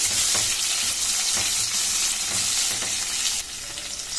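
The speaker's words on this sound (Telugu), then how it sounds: "ఇప్పుడు నవిలికోసని కాస్త పచ్చివాసన పోయే వరకు కలుపుకొని పెట్టుకోవాలి." Knol-khol pieces fry in a pan while being stirred, giving a loud, continuous sizzle broken by repeated soft scraping strokes of the spoon.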